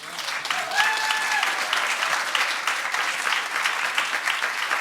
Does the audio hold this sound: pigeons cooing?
no